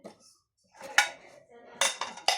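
Ceramic IKEA plates with a flower pattern clink and clatter as they are unpacked, several sharp bright knocks in short bursts close to the mic, with faint talk in between.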